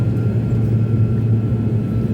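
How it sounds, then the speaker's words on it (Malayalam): Small passenger plane in flight between Kathmandu and Pokhara, heard from inside the cabin as a steady, loud low engine drone and broadband hum with no pauses. "ഫ്ലൈറ്റ് പൊങ്ങി. ചെറിയ ഫ്ലൈറ്റ് ആയാലും വലിയ പ്രശ്നമൊന്നുമില്ല."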